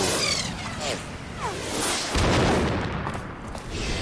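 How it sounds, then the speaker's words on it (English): Missiles from Metal Gear Solid 2 launch with quick whooshing streaks, then a heavy explosion roars in mid-clip, followed by rumbling blasts and gunfire-like bursts, loud and busy throughout. "Tentacle missiles, go!"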